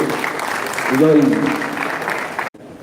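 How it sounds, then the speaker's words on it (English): Audience applause for a class rep heading to the stage at a ceremony, a steady wash of clapping with a voice or cheer rising briefly in the middle, cutting off abruptly near the end. "let's give him a round of applause again"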